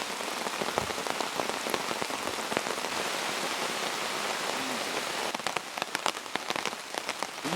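Steady rain falling at a woodland camp, dense close patter on a surface with sharper drips and taps spiking through, continuous and loud with no voices.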